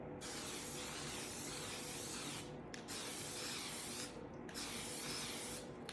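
An aerosol spray can lays a light, even coat over small paintings in horizontal and vertical passes, heard as three long, steady hissing bursts with brief pauses between them.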